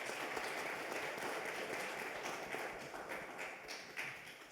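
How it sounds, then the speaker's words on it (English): A crowd at a business event for a women's collective at the Taj Dubai Business Bay applauds a mentor, with steady, dense clapping that holds throughout and fades slightly toward the end, no voices over it. "Ramesh Mahalingam, you've got to stand up and take an applause for this"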